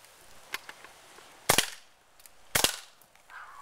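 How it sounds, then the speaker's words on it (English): A Taurus 24/7 CO2 airsoft pistol with a polymer body fires BBs: two sharp, loud, close shots about a second apart, with faint small clicks and taps around them. "I'm going to be shooting the Taurus 24/7, and it's full polymer body with a rubberized grip and a nice heavy mag."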